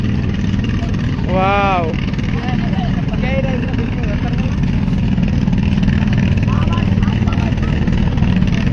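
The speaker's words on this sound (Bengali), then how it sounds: "এই যে এটা ট্রলার, এই যে মানুষ আসছে যাচ্ছে" A trawler boat's engine drones steadily near a bridge, a constant low rumble running the whole time beneath close, excited talking.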